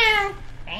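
A single loud, close cat meow in a horror video game, with a falling pitch, followed by a brief second mew.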